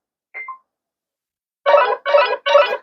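Nothing Phone (2a) ringtone called Dolphin: a brief chirpy tone, a pause, then four evenly spaced electronic bursts in a steady rhythm, clear and alone.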